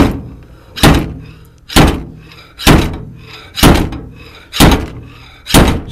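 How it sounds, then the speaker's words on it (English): Six evenly spaced, sharp hammer strikes on a red paintless dent repair glue tab stuck to metal, each a hard close knock with a short decaying ring, roughly one blow per second, no talking. "So I'm going to be hammering this thing."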